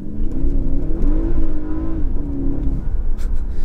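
Porsche Panamera driven at night in Sport Plus mode, its engine revving loudly and steadily as the car accelerates, a strong continuous drone with rising and falling pitch heard from inside the cabin.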